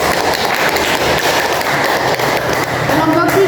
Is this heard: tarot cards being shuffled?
no